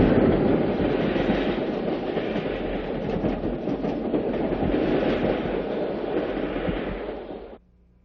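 The westbound Juniata, a diesel passenger train near Johnstown, rolls past with a loud, steady roar and rhythmic wheel clatter that stays strong throughout, then cuts off abruptly at the end.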